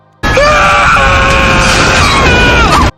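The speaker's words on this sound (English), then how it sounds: "he does a meme scream" A single loud, sustained scream lasts nearly three seconds, starting abruptly and cutting off sharply, with a wavering pitch.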